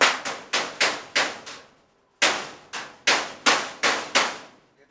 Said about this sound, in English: So I use the hammer and a piece of wood.